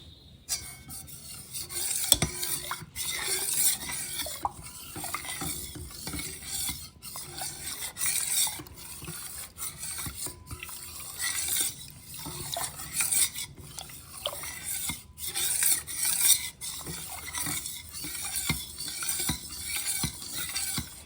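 A spoon stirs a custard mixture into lukewarm milk in a pot, with repeated scraping strokes against the metal sides that recur steadily and close by for about twenty seconds.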